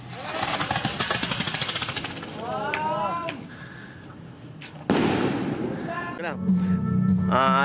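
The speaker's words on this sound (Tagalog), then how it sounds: "Experiment strobe rocket test number 1." Strobe rocket firework going off, a rapid crackling burst of pops followed by a sharp bang and fizzing, with people talking faintly around it.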